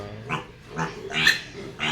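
Pigs on a farm grunt and squeal close by in several short bursts over about two seconds, with no talking.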